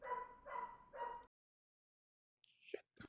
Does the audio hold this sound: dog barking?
yes